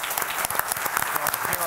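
An audience at an insurance recovery forum applauds firefighters and police with loud, dense clapping, while voices seem to sound through it.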